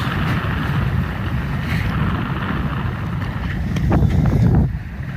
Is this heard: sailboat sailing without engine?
yes